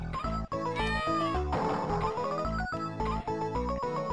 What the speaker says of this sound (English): Why do all of the enemies sound like freaking cats when you put them in the bag and put the bag down?